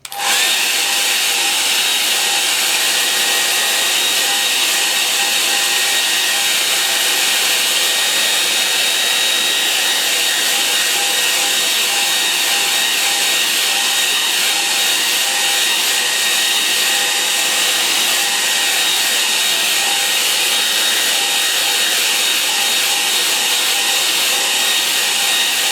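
A hair dryer blowing over a watercolour painting, a loud steady whirring roar that runs unbroken throughout without any talking.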